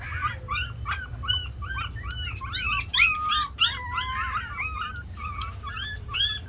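Young puppies and a German Shepherd dog make a rapid series of high, thin whimpers and squeaky yelps close by, over a low steady hum.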